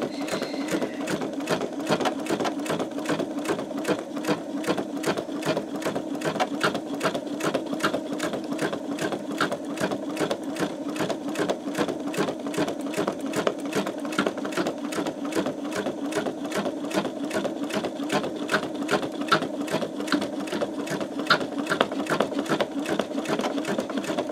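An embroidery machine stitches out a greeting card on peel-and-stick stabilizer, with a fast, even needle rhythm humming steadily and close throughout, alone with no talk.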